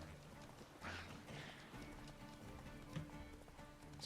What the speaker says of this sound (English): Horse can't run down there.